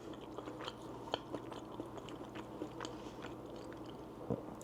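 Close, quiet crunching and chewing of a crisp low carb pizza crust edge, with a few sharper bites breaking through steady mouth noise.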